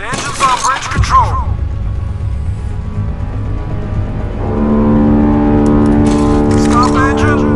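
A warship's engine starting up in the mobile naval combat game Modern Warships, a steady harmonic drone that rises and holds loud after a brief stretch of speech at the start and returns under talk near the end.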